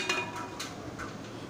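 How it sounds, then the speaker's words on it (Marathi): A metal steamer rack set down inside a pressure cooker in a home kitchen while plain rice is being made, giving a few light metallic clinks and scrapes close by, with no talking. "तर या कुकरमध्ये ही जाळी मी इथे ठेवणार आहे"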